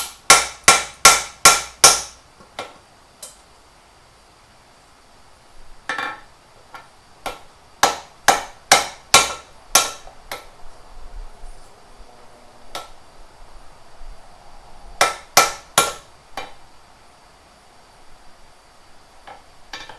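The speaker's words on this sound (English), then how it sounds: "I think just flattening that end now a little bit." Hammer blows flatten the end of a hot steel bar being forged into a hammer, coming as loud, close, ringing strikes in quick bursts of four to six with pauses between, then scattered single taps.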